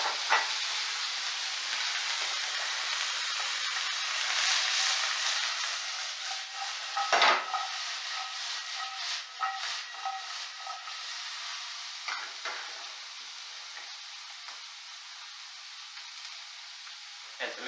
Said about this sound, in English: Good immediate sizzle.